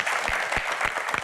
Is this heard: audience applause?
yes